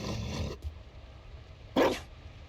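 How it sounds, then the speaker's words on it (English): Mabari war dog in the Dragon Age Inquisition video game, giving a short loud bark or growl near the end after a stretch of faint low ambience. "You found a dog?"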